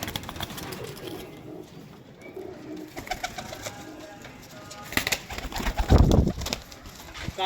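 Pigeons coo in soft, repeated low calls close by, with some light rustling and a louder burst of fluttering or handling noise near the end.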